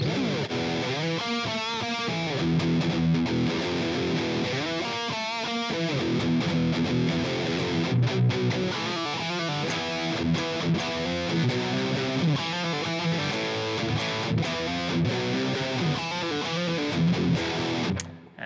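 A distorted electric guitar plays the pre-chorus riff of a song, with repeated chugging phrases and bends, loud and steady throughout, no voices.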